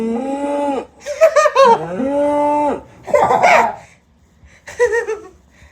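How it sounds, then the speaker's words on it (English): A recorded cow moo played back by a smart assistant's speaker: two long, loud, drawn-out lows at close range, followed by bursts of laughter from children nearby. "This is a cow."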